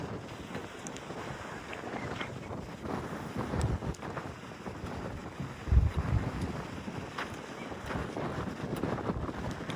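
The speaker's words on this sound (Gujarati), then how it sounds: "વાયરો પણ બહુ છે ને" Strong wind buffets the microphone outdoors on a farm field with a steady, rumbling roar that swells into louder gusts. No one speaks.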